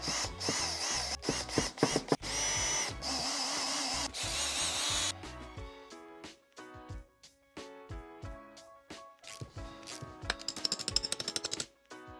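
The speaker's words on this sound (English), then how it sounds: "drill through the bush because this will help to weaken all of the area around it" Loud, rapid rattling bursts of a power drill boring through a car suspension bush on a V12 Jaguar XJS, first dense and harsh, then choppier with short stops and restarts.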